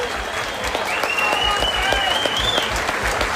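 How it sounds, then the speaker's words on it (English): A crowd at a charity boxing event applauds two boxers after their fight, giving a dense, sustained clatter of many hands with a voice faintly audible beneath it. "I just want a massive round of applause for these two."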